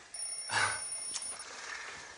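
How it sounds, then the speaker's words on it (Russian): A telephone rings indoors with a brief, fairly faint electronic tone during a gathering, a thin sustained ring that fades away within about two seconds. "Секунду. Телефон."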